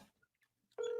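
A phone keypad gives a quick touch-tone dialing beep while a call is placed, a single steady tone starting abruptly near the end after a brief quiet stretch with faint noises.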